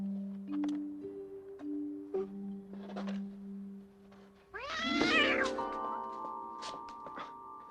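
A cat gives one loud, drawn-out meow partway through, rising out of soft background tones and scattered small indoor sounds in an apartment scene from a film.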